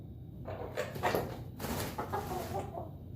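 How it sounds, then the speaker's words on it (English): A rooster clucks in a short burst of soft, throaty calls, close by, with some rustling and farmyard background. "He is a happy, clucking little guy today"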